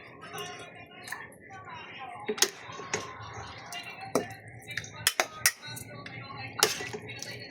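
Cooked bulanglang with pork liempo and guava being spooned from a pot into a container, with scattered clinks of a ladle against metal and dishes, close and moderately loud under ongoing talk.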